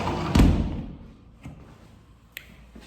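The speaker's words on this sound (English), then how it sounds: "I don't know if I should actually just close this door" An indoor door swings shut with a solid thud, followed by a couple of fainter clicks and taps as it settles, close by and with no talking.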